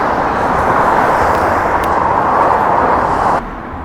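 A dense, roaring wash of motorway traffic noise passes steadily below a crossing, broad and loud, easing slightly near the end.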